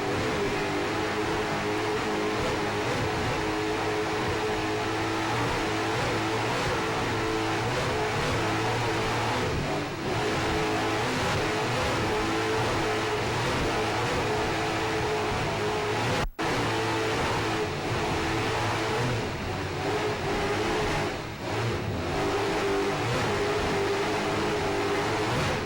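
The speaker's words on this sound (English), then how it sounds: "Hear those Mercury Super Cat engines screaming" Mercury Super Cat racing boat engines scream at a continuous high pitch during a powerboat race. The roar is loud and unbroken, with slight shifts in pitch as the boats run.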